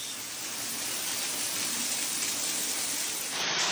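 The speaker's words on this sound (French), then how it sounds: "Il tombe de la grêle de fou." Heavy rain mixed with hail pours down during a violent thunderstorm, a dense, steady hiss of drumming impacts close by with no voices.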